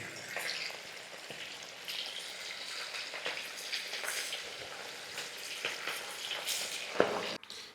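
Fish pieces deep frying in hot oil for a fish pickle, a busy crackling sizzle with scattered sharp pops throughout, fairly close and without talk.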